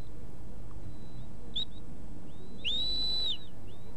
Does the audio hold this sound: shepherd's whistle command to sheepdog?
yes